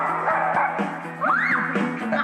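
Dogs barking and yipping at an open, cage-free dog shelter where they live together as a pack, several close, overlapping barks with a rising whine in the middle.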